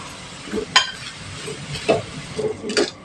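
Chicken with chaat masala, crushed red chilli, Chinese salt and cumin being stirred in a pan: a few distinct scrapes and clinks of a spoon against the metal over a soft background sizzle.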